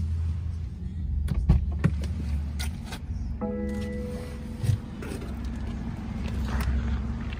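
Sunroof motor of a 2017 BMW 330i opening inside the car, a steady mechanical whir with a rising whine that runs for a few seconds over low cabin rumble.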